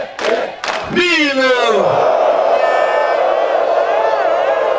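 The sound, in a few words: crowd applauding and cheering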